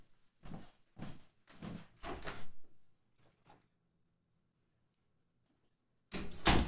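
A door is opened to let a pet dog inside, giving a series of wooden thumps, rattles and sliding knocks, close and moderately loud, followed by a quiet pause and then another burst of handling noise.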